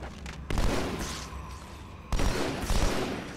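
Assault rifle gunfire in Halo 2 Anniversary: two loud bursts of rapid shots, the first starting about half a second in and the second near the two-second mark, with a heavy low rumble beneath the crackle.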